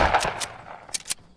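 Gunfire in Fortnite, a quick burst of rapid shots followed by a short pause and two more sharp cracks, close and loud with no talk over them.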